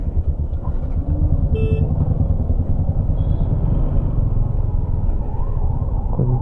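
A Yamaha R15 motorcycle rides through a traffic jam inside a tunnel on the Jammu to Srinagar route, with a continuous loud engine rumble from nearby vehicles, a brief horn toot and no talking.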